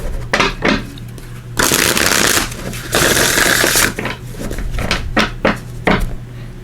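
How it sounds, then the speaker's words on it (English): Tarot of Dreams tarot cards shuffled up close in two loud, sustained riffling bursts, framed by quick taps and card-handling clicks, with no one speaking. "let me just give these a shuffle"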